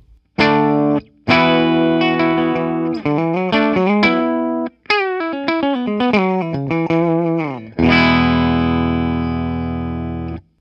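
An Epiphone Slash Les Paul Standard electric guitar on its bridge pickup plays distorted chords and a quick riff, bright and loud with gaps between phrases and a final ringing chord, no voices.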